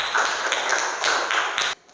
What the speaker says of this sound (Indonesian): kasih tepuk tangan untuk Ujang